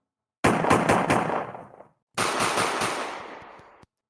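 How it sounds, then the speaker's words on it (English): Video game gunfire from Resident Evil: two loud, close bursts of rapid repeated shots, each a couple of seconds long with a short reverberant tail, separated by a brief silence. "that's a Resident Evil pistol sound"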